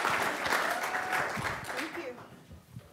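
An audience claps at a university business prize competition as a finalist walks out, steady massed applause that thins toward the end, with some voices mixed in.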